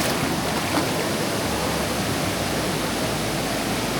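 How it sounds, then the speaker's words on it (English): Roaring waterfall in Thailand along the Mekong River, a loud, constant broadband rush with no pauses. "Let's go have a look at this waterfall."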